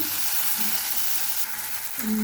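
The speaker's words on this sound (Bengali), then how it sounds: "বেগুনটা আমি এভাবে লাল লাল করে ভেজে নিয়েছি" Slices of round eggplant fry in oil in a pan, a steady close sizzle that dips briefly as the pieces are turned, with no talk.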